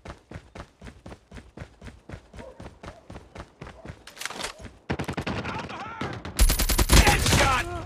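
Rapid bursts of gunfire in a Search & Destroy video game match, a steady run of sharp shots building into denser, louder volleys, with game voices mixed in.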